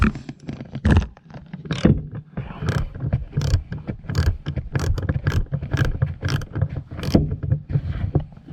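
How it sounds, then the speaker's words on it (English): Ratchet tightening a bolt inside a Volvo P2-platform car (S60/V70/XC70) during a sound system retrofit, a rapid run of close, sharp mechanical clicks against a low rumbling background, with no talking. "We'll ratchet the rest of the way in."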